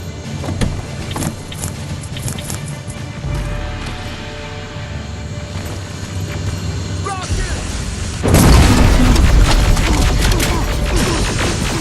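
Rocket explosions in the video game Terminator Resistance, a series of loud booms and crashing impacts over a steady din of combat, growing heavier toward the end, with voices mixed in.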